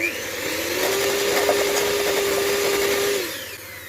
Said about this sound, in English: Add a bit more. Whisk again.